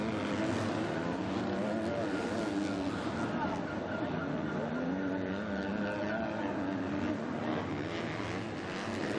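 A Husqvarna motocross bike racing in the EMX 250 class at the MXGP of France: continuous loud engine drone with shifting pitch under steady crowd and announcer commentary throughout.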